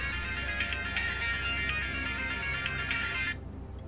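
A phone ringtone in the video game Subnautica: Below Zero chimes in a bright, repeating electronic melody, steady and close, then cuts off abruptly near the end with no voices over it.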